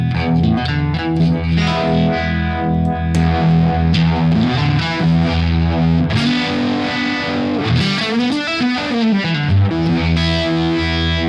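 Distorted electric guitar chords drenched in a swirling, throbbing Univibe modulation effect, played continuously and loud with reverb.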